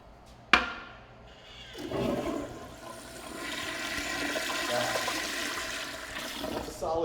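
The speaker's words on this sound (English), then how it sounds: "That's a solid flush right there." A quiet-flush toilet in a restroom starts with a sharp click of the handle, then a rising rush and swirl of water that keeps going to the end, with faint voices under it.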